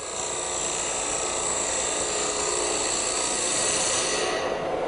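A hand thread chasing tool bites into wood spinning on a lathe, giving a steady, close whirring drone that holds evenly throughout.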